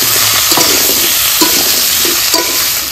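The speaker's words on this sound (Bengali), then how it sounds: "প্রথমে আলুগুলো একটু ভেজে দিচ্ছি" Potatoes fry in a hot pan with a loud, dense sizzle, while a few soft stirring scrapes come through the steady crackle and no one speaks.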